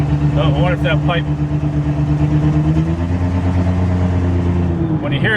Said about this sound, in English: when you hear it start missing like that, that's usually when the pipes go back together and the exhaust blockage is back